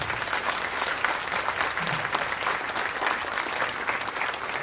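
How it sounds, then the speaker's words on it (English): Warm, steady applause from an audience at the close of a mayoral debate, dense clapping sustained throughout at moderate loudness. "If we can have a warm round of applause for both of those things"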